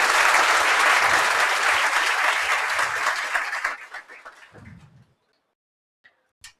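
Audience applause in a hall at an exam-coaching event, loud and steady for about four seconds before tapering off, followed by a soft thud and a couple of faint clicks.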